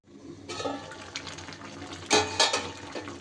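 A metal lid clanks onto a cooking pot of chicken, with a couple of sharp clatters over a soft background of kitchen noise. No one speaks.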